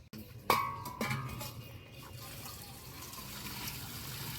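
Water filled at a Gayatri temple, beginning with a sharp metallic ring and clatter, then settling into a steady, moderately loud stream of filling water with no talking.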